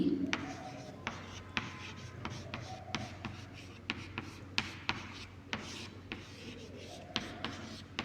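A pen moves by hand across paper as an answer is written, making soft, quiet scratching strokes in a steady series of short bursts.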